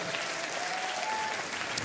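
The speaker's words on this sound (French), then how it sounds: "donnez une bonne main d'acclamation au Seigneur" A church congregation at a French-language service bursts into applause, a brief, dense burst of clapping heard alone for under two seconds.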